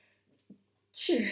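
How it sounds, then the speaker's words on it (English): After a short sniffly intake, a single loud, close sneeze bursts out at the end. "I'm going to sneeze in a sec"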